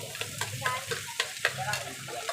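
Pork innards being sautéed in a pan for bopis, with a close, moderate sizzle and repeated stirring scrapes and clanks at an uneven rhythm.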